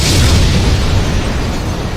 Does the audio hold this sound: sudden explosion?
yes